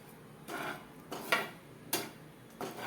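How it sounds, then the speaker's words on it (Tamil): Ragi-flour stuffing for poorana kozhukattai stirred in ghee in a pan: four or five separate bursts of spoon scraping against metal, close and moderately loud, with a faint sizzle beneath and quiet gaps between strokes. "அந்த ஸ்டஃப் போட்டுக்கலாம் அதை போட்டு நல்லா வறுக்கணும்"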